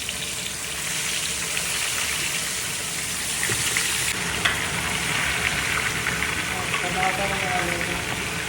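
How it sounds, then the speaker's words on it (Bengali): Hilsa fish frying in hot oil at an outdoor picnic in China makes a dense, steady sizzle and spatter from start to finish, with occasional faint clatter. "ইলিশ মাছ ভাজা চলতেছে, চাইনিজ ইলিশ।"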